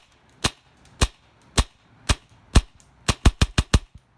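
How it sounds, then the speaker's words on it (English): A Polarstar Jack airsoft gun fires without an amplifier: eleven sharp, dry cracks, first at a steady half-second pace and then in a quicker burst of closely spaced shots near the end, with no talking. "Here's a sound test just without the amplifier"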